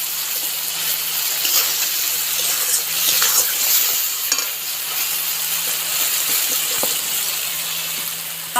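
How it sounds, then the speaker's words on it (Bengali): Spice water added to a pan of fried spice paste for a broiler chicken curry sizzles in a loud, steady hiss that holds for several seconds, close and without talk. "মশলার জল আছে আমি দিয়ে দিলাম কষানো মশলাটার মধ্যে।"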